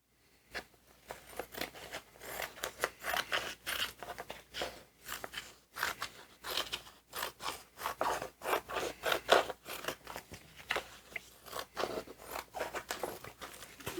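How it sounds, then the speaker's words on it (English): Scissors snip and rasp through paper in a steady run of short cuts, close and fairly quiet, with brief pauses between strokes. "I will use a pair of scissors"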